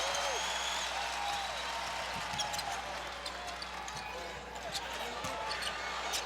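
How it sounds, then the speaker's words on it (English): Student section applauding during a men's college basketball game between LSU and Tennessee, a faint, steady wash of clapping and crowd noise with ball bounces and sneaker squeaks under a commentator's voice. "the student section, which has been standing most of the day, applauds the effort"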